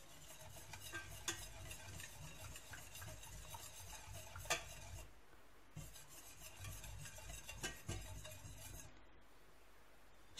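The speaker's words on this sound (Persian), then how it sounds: "با همزن دستی خوب هم بزنید که گوله گوله نشه و حل بشه داخل هم دیگه." A hand whisk stirs rice flour and milk in a pot over heat, giving a steady scraping swish with occasional metallic clinks against the pot, fairly quiet and without speech.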